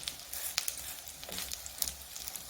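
Potatoes frying in a little oil for a breakfast of potatoes and eggs, a faint steady sizzle scattered with small crackles and pops, no voices.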